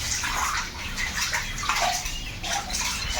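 Water rushes through a pipe during a cleaning job, a steady close splashing flow with surging, gurgling bursts and no talk.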